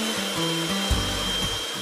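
An electric whisk beats separated egg whites for a meringue, producing a steady, loud whirring hum that sits close throughout with no talking.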